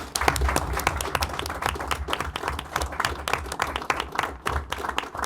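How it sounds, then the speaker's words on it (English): An audience applauds at a National Space Council meeting chaired by the Vice President, a steady round of clapping lasting the full stretch, moderately loud and dense, with a few voices faintly mixed in. "let's give these two a round of applause."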